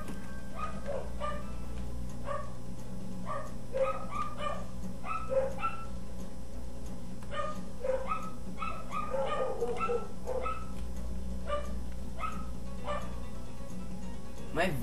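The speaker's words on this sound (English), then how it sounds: "My dogs are barking." Dogs bark repeatedly in quick bursts at a moderate distance over a steady low hum, with occasional yips mixed in.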